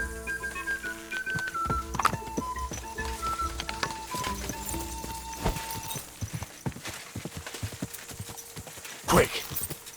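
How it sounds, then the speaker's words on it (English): Horse hooves clip-clop in a steady, close rhythm in the medieval game Kingdom Come: Deliverance II, with music and voices layered underneath. "Easy, good horse."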